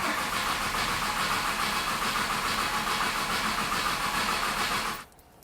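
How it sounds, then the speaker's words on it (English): A drag car engine cranks over on the starter to build oil pressure, a steady loud mechanical churning that runs for about five seconds and then cuts off abruptly into near quiet. "I'm pretty excited to spin it over, get some oil pressure."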